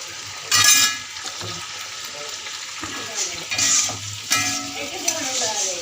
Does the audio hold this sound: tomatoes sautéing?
yes